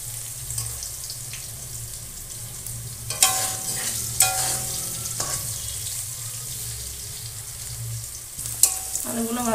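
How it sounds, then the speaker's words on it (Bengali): Potato pieces fry in oil while being turned over, a continuous moderate sizzle broken by several sharp utensil scrapes and knocks against the pan. "উল্টে পাল্টে ভালো করে ভেজে নেব।"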